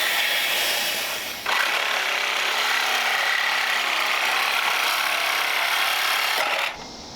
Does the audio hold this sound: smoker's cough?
no